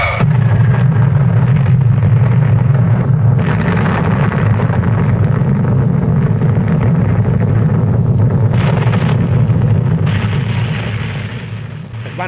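A nuclear test explosion following a countdown: a loud, sustained roar with a heavy low rumble that holds steady for about ten seconds, then begins to fade toward the end.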